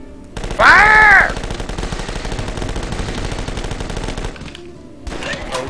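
Gunfire in The Last Stand 2 video game, a dense continuous rattle of rapid shots that runs for several seconds, with a shrill cawing game sound near the start and a brief pause before the firing resumes.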